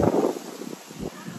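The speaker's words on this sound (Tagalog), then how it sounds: "Mahangin ngayong araw na to mga kapitbahay." Wind gusts through an apple orchard on a cold farm day, buffeting the microphone in rough, uneven bursts with brief lulls between them.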